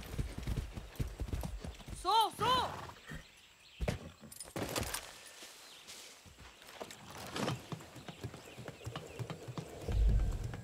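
Horse hooves clip-clop steadily in Far Cry 6, with a brief whinny early on while character voices talk over the hoofbeats.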